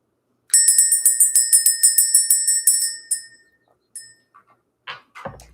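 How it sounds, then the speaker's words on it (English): A small hand bell rings rapidly about fifteen times in a bright, steady jingle for a few seconds to clear energy. The ringing fades out, then a few faint knocks and a brief soft voice follow. "Let's ring the bell."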